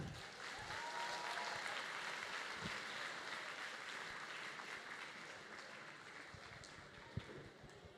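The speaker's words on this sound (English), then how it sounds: "One more round of applause." Sustained applause from a large audience at a robotics competition awards ceremony in a big hall, steady and even throughout, heard from a distance at a low level, with a single sharp knock near the end.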